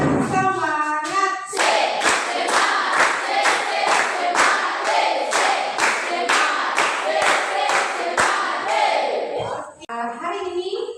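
A classroom group claps together in a steady, fast rhythm of many sharp claps, close and loud, with children's voices briefly before and after.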